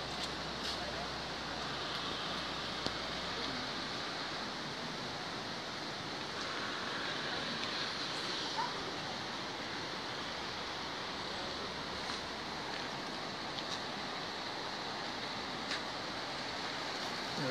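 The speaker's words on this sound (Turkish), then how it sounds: "Evet, su akıyor böyle." Water flows steadily in a stream near Kazanlık, Bulgaria, a constant broadband rush that stays even throughout.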